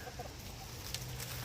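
Young chickens cluck softly near their coop at dusk, a faint, steady murmur of small fowl sounds with no voices over it.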